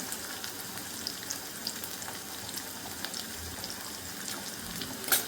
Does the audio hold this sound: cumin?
yes